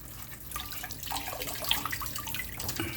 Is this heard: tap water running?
yes